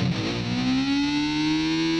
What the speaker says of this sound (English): start from the bar being dropped all the way, pluck the string,